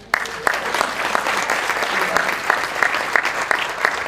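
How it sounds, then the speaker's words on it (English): An awards-night audience claps for a junior skeet-shooting champion, a sustained, fairly loud wash of many hands with a few sharper individual claps standing out near the listener. "give him a clap."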